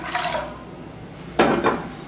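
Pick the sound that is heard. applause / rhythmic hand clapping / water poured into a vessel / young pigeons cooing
water poured into a vessel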